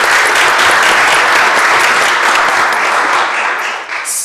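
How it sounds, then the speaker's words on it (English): Dense, loud applause from the audience at a city council meeting, a steady wash of many hands clapping that holds for four seconds and eases slightly at the end. "so let's give Chief Wobus a round of applause."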